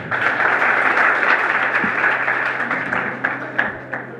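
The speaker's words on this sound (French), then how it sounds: "je voudrais souhaiter qu'on les applaudisse s'il vous plaît" Applause for the organizers of a youth forum in Kankan: a hall full of people clapping densely and evenly, loud at first and thinning slightly toward the end, with a low steady hum beneath.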